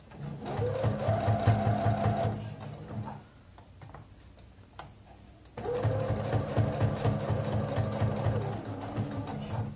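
Electric sewing machine stitching around a mitred placemat corner, a fast close rhythmic whirring chatter for a couple of seconds, a pause with a few faint clicks while the fabric is turned, then steady stitching resumes.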